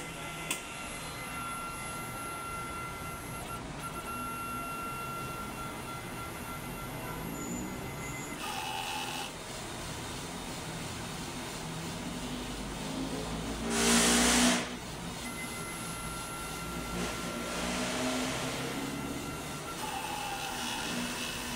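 A large-format printer runs its head cleaning cycle, giving a steady mechanical whir and hum with faint shifting tones, joined by a brief louder rushing burst partway through.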